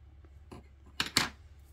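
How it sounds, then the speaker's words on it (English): Two quick, crisp snips of scissors trimming excess string from a handmade icicle ornament, close and quiet, following a few faint soft taps. "Tie a little knot in it, and then cut off the excess."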